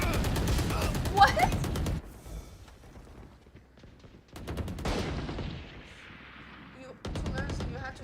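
Rapid bursts of gunfire from a shooting video game, loud, close automatic volleys broken by quieter gaps, with a second long burst fading out and a third starting near the end.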